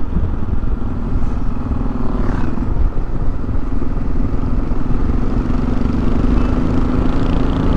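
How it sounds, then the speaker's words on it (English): Motorcycles ride a mountain road through Bulgaria near Velingrad, producing a steady, continuous engine drone with wind rumble throughout, no gaps or talk. "We saw motorcycle riders."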